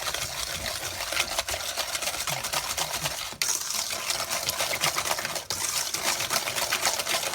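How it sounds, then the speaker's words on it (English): An electric hand mixer beats an egg into creamed butter and sugar for chocolate chip cookie dough, giving a steady, loud whirring drone that runs without a break, with a couple of brief dips in intensity. "So now we're going to mix in the egg."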